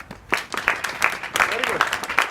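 Scattered clapping from students in a school hall, uneven claps under and between a speaker's voice, moderately close.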